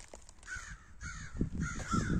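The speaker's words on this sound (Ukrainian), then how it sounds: "ворони розкаркались, бо то ранком, і їх турбують" Crows caw in the morning over a backyard garden, several harsh rising calls in quick bursts at moderate distance, with low rustling and handling noises underneath.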